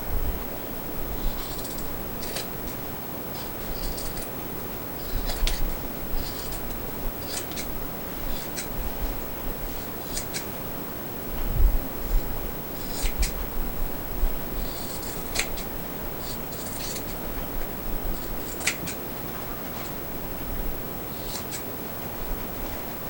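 Scissors snip repeatedly through fabric while an embroidered mug rug is trimmed and its corners cut, giving sharp, close clicks in irregular bursts over quiet room hiss.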